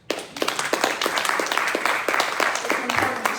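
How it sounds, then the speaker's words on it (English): A crowd claps for itself at a community event: dense, steady applause from many hands that builds quickly after a quiet start and keeps going throughout. "And I want you to give yourself a round of applause for showing up."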